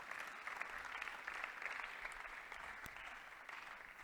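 Audience applause at a church tithing seminar, a steady dense wash of many hands clapping at even loudness throughout, with no talk over it.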